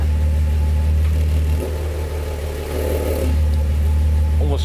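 A Datsun 280Z with a new remote-controlled exhaust revs close by. Its deep, loud engine note holds steady, dips, then swells again, and faint voices are heard in the background.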